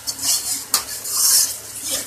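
A spoon clinks and scrapes against a pot while chickpea masala is stirred and fried, with two sharp knocks over a soft background hiss.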